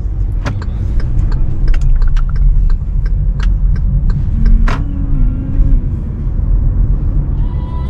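A car drives along a road with a loud, continuous low rumble of engine and tyres, dotted with small rattles and clicks from inside the cabin; nobody speaks.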